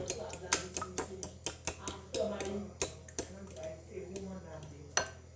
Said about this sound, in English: Now you start to mix it.